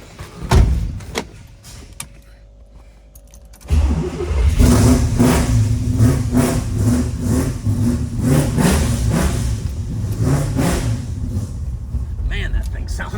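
A heavy 427 big block engine in a 1969 Chevrolet Camaro Yenko tribute rumbles to life and revs hard in repeated surges, loud and close, with a brief thump and some voices early on.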